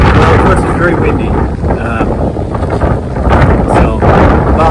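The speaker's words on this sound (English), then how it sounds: "Well, of course, it's very windy." Strong wind buffets the microphone with a loud, rushing roar, while muffled voices talk faintly underneath.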